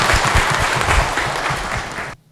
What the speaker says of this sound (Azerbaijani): Alqışlarınızla Rafiq müəllim